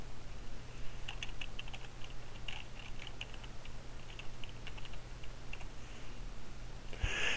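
Computer keyboard keys tapped in short, irregular bursts of clicks over a steady low hum, fairly close, while a Kyocera copier's scan-to-folder host name is entered on a PC.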